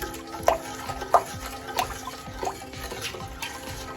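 Spoon stirring a sugar mixture for peanut brittle in a pot on the stove, with soft irregular scrapes and clinks repeating about every half second to second, close and fairly quiet, without talk.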